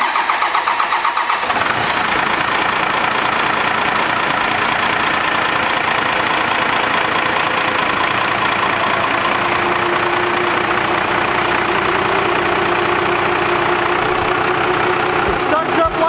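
A 12V Cummins diesel engine fitted with a compound turbo cranks over and catches, then settles into a steady, loud, close idle that runs for the rest of the stretch with no break.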